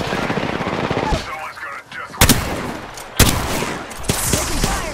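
Automatic gunfire crackles in Apex Legends, sharp close bursts breaking into a busy mix, with two especially loud cracks standing out before the shooting carries on.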